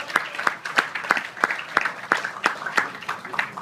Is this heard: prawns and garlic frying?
no